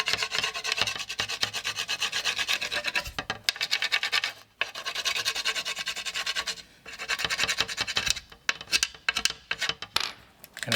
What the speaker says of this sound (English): And it'll basically cut through the tape for you